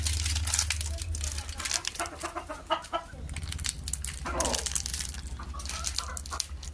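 Free-range country chickens on a poultry farm, clucking and calling close by over a low steady background hum, with faint rustling mixed in.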